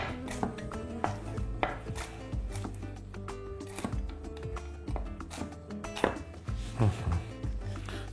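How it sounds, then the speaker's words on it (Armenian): Walnuts are chopped into pieces with a knife on a board for banana-chocolate brownies: steady, close thuds and clicks of the blade, quick and fairly regular, with crunchy cracking of the nuts throughout. "Սա էլ շատ մանր չենք կտրատում։ Ամեն ընկույզը մոտ 3-4 մասի ենք բաժանում։"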